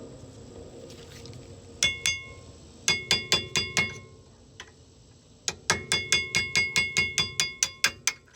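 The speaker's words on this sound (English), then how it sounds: "The next thing we're going to do is get our small hammer, little punch." Sharp metallic hammer taps ring out in quick bursts, a few spaced strikes then a fast run of evenly paced knocks, close and bright: a small hammer and punch knocking out brake pins on a Mercedes SL 500.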